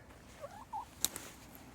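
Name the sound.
chicken at a bird feeder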